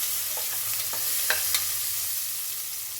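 Green chillies, dried chillies and ginger sauté in a pan with a soft, continuous sizzle, broken by a few light clicks and scrapes from stirring.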